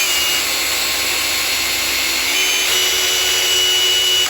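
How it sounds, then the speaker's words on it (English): Loud, steady high-pitched whine of a hand drill drilling out a rivet on an AK parts kit up close, then cutting off abruptly at the end. "Maybe if I just drill the rest of it out with the hand drill,"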